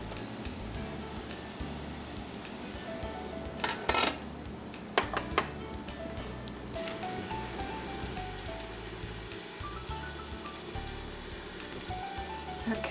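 Eggplant sauteing with soy sauce in a pan: a steady soft sizzle like light rain runs throughout, broken by a few brief utensil clanks against the pan partway through.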